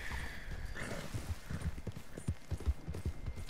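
Horse hooves in Red Dead Redemption 2, a steady run of clip-clop footfalls, close and fairly loud, with a brief whinny near the start.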